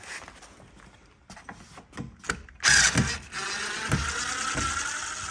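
A ratchet loosens screws from a CNC cupola, making close mechanical clicks and ratcheting clatter that build into a louder, denser grinding stretch in the second half.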